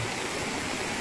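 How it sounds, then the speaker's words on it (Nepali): The Nisti river near Rampur flows with a steady, broadband rushing wash, like a stream or small waterfall, loud and continuous from start to finish, with no voices. "हेर खोला पनि यत्रो ठुलो भएछ नि"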